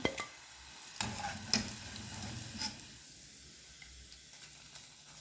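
Bolinhos de quermesse fry quietly in hot oil, a faint steady hiss punctuated by a few sharp clinks and taps as pieces are lowered in.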